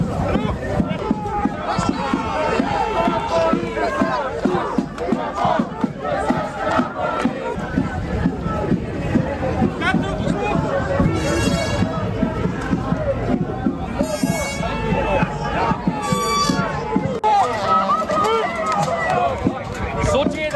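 A large protest crowd of Hamas supporters roars and chants in a dense, continuous mass of shouting voices, loud and close, with sharp whistles cutting through at moments.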